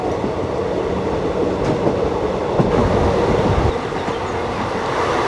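MEMU second-class passenger train running between Kannur and Valapattanam station, a loud continuous rumble of wheels and carriage with faint rhythmic clacks, heard from on board with no talking.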